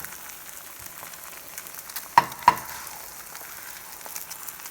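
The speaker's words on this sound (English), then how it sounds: "I'm frying it in butter, so it tastes really good." Soft, steady sizzle of an egg frying in butter in a pan, with two sharp clicks partway through and no talking.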